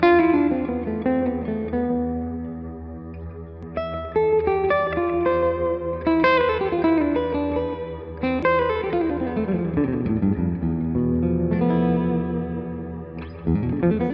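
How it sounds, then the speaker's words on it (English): Electric guitar played through a TC Electronic Infinite Sample Sustainer pedal with an always-on reverb set like a subtle slapback delay: sustained notes and chords ring out and glide into one another, smooth and continuous, with no talking. "Slot 1 has a sustainer complete with an always-on reverb that's been tweaked to work like a subtle slapback delay."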